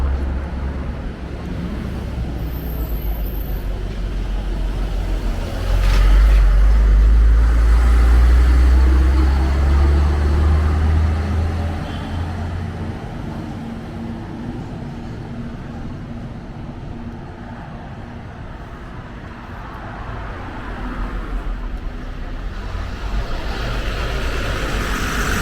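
A bus passes on a street at Coral Bay, Cyprus, a loud low engine rumble that swells and fades over several seconds against steady outdoor traffic and wind noise.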